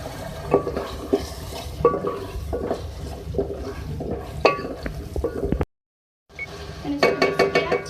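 A spoon scrapes and clinks steadily against a pan while a beef keema mixture for turai keema is stirred, with irregular close knocks, a brief silent gap, then more stirring. No one speaks.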